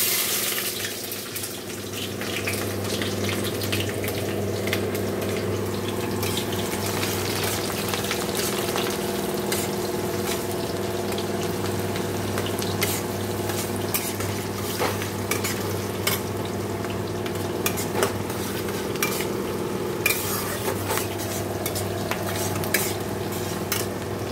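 Onion, whole garam masala and dried chillies fry in hot oil with a spice tempering, keeping up a loud, steady sizzle close by for over twenty seconds. Scattered scraping and clinking of a utensil sound through it, and no one speaks.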